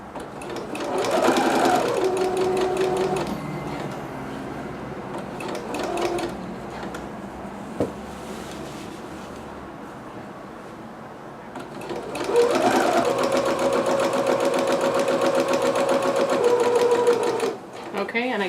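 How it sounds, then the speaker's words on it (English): A sewing machine runs a permanent stay stitch along a dress seam in two loud, steady bursts of rapid mechanical whirring, close by, separated by a quieter pause with a single click, while someone talks. "I'm getting into my original basting stitch, which I'm now making a permanent stay stitch."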